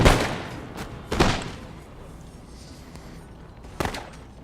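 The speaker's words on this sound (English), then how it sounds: "Throwing some artillery on that pikeman unit." Artillery fire on a pikemen unit during a siege battle in Empire: Total War, with three loud booming blasts spaced apart, each fading into a diffuse rumble over a faint battlefield din.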